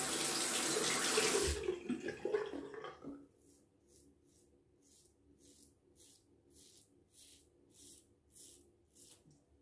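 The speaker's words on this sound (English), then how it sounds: "here comes the cold. With the water application." Cold water runs from a tap into a sink for a wet shave; a loud rushing burst in the first seconds gives way to a quieter, gently splashing trickle with soft rhythmic surges.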